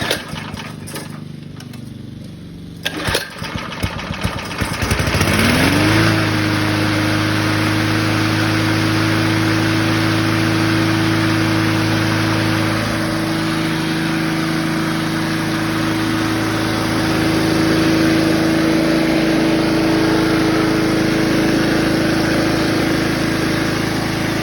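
A 1974 Craftsman Eager 1 lawnmower with a Tecumseh engine clatters through a pull start, catches after a few seconds, and settles into a loud, steady single-cylinder idle hum that runs unbroken to the end.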